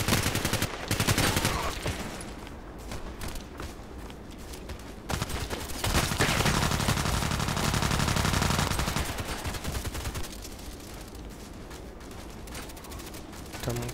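Machine-gun fire from Contract Wars on a construction map, loud automatic bursts and rattling volleys broken by short lulls, close and harsh throughout.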